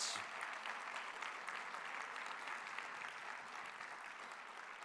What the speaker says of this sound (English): Please join me for a big round of applause for all of you for once more being here